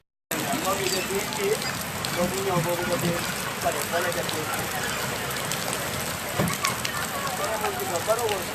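Steady rain pours during heavy flooding around Serekunda Market and the garage car park in Serekunda, Gambia, a dense continuous wash of falling water with people talking close by underneath.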